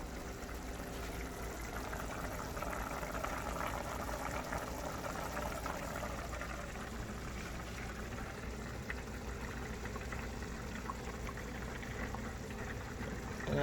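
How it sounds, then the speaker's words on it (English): A pot of beef tips coming to a boil on the stove, giving a steady, continuous bubbling and simmering wash that holds an even level throughout, with no talk over it. "I think that's coming to a boil"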